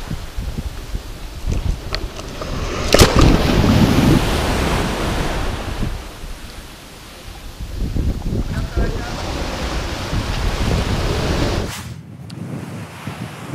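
Waves wash onto a typical regional beach at Palmeiras while strong wind buffets the microphone, a steady roar of surf and gusts with no talking.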